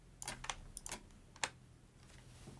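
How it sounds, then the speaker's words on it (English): Computer keyboard arrow keys being pressed while adjusting faders in music software, a handful of soft, quiet clicks at close range in an irregular rhythm, no voices. "move them up with the arrow keys on your keyboard until it's flush with switch 3"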